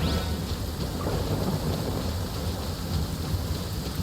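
Thunderstorm in the video game Genshin Impact: steady heavy rain and a continuous low rumble of thunder, loud and unbroken, with no talking.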